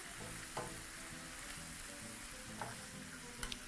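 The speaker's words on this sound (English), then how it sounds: "Proceed to toss those in your pan." Food tossed in a hot pan with a little liquid, sizzling steadily and hissing up close, punctuated by occasional spatters and utensil taps, with no speech.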